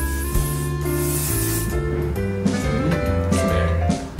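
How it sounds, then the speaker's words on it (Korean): A cooling sunscreen spray can in a guesthouse room in Aewol, Jeju, gives off bursts of close, airy hissing over a steady tonal background. "이거 저도 되게 좋아하는 건데 쿨링 선스프레이거든요."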